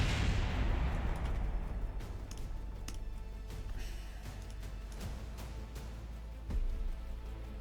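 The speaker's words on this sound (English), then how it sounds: "there goes the explosion" A rocket blows up in the video game Kerbal Space Program: a loud broadband blast at the start decays into a dense rumbling crackle, with a sharper burst near the end. No one speaks.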